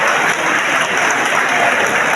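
An audience claps in welcome at a gathering, with a steady, dense wash of applause that stays loud and even throughout, with no voices over it.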